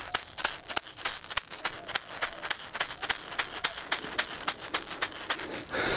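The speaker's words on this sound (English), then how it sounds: "And that is a shaker or the maracas." A shaker or maracas rattled in a quick, steady rhythm, each shake a crisp bright burst of beads, close and clear with no voices.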